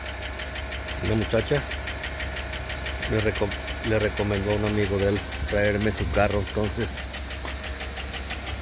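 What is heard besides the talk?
car engine ticking from faulty lifters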